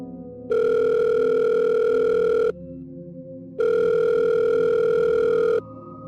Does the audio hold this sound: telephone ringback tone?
yes